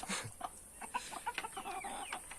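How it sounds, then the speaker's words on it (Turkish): Soft chirps from a single newly hatched chick come in quick, irregular bursts, quiet and close, with no talking. "Şu da civcivimiz. Tek çıktı."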